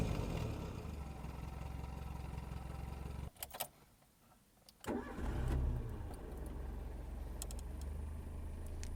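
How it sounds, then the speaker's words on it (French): The small engine of a 1984 Talbot Horizon idles, cuts out briefly with a couple of clicks, then cranks and catches, settling back into a steady, close idle. "pour le petit moteur de l'horizon que je vous propose d'écouter tout de suite"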